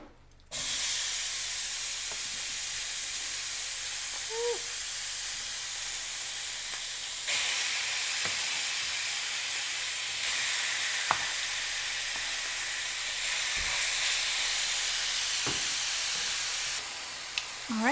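Beef chunks hit a hot saucepan and sizzle loudly, a steady, bright hiss of frying that holds for many seconds with a few faint clinks and stirring sounds underneath.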